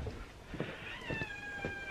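A cat meows in a horse barn with a plaintive, drawn-out cry, fairly close and moderately loud, against a low background hum.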